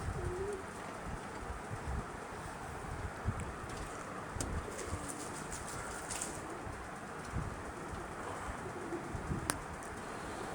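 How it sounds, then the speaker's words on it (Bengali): Giribaz pigeons cooing softly amid steady background hiss and rustle, with occasional faint chirps and clicks from nearby birds. "এখানে আছে একটি গিরিবাজ কবুতর"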